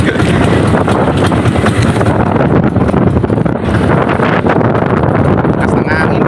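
Strong wind roars steadily into the microphone on a fishing boat at sea during net fishing, a loud continuous buffeting rush with no pauses throughout.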